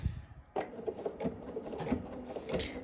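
A home sewing machine stitches a garment seam with a quick, steady rhythmic chatter of the needle, close by, starting after a brief pause and running continuously.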